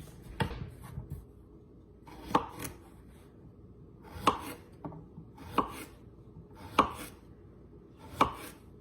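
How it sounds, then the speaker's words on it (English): A knife chops produce such as cucumber on a cutting board, six crisp, evenly spaced strokes, each with a short scrape, sounding close up in a quiet room. "I'm just gonna start cutting up my produce first"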